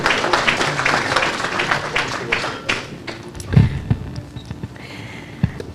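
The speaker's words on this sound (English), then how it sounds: "So let's give him a round of applause for doing that for us." An indoor crowd at an NDC Florida Chapter launch event claps in a dense, steady round of applause that gradually thins out, followed by a few scattered thumps and taps.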